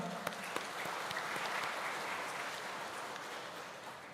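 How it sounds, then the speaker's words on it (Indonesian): Christmas Day congregation at an HKBP church service applauds together, a soft, distant, steady spread of many clapping hands with a couple of sharper claps near the start, gradually easing. "Mari kita aplaus bersama-sama Amanginang, kita tepuk tangan."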